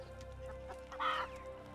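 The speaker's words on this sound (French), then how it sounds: "Ah bah oui, ils sont là les poulets, effectivement." Chickens clucking in the video game Medieval Dynasty, one short bright cluck burst over a steady low game ambience with a faint hum, no talk.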